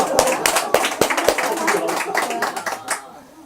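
A small lecture audience claps together at a talk about the Kaesong Industrial Complex: a burst of sharp, overlapping claps that fades out after about three seconds, with voices murmuring underneath.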